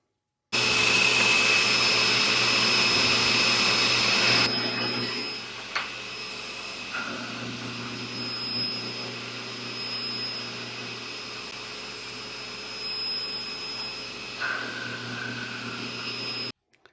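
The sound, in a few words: buffing wheel polishing a 1937 Dunhill tobacco pipe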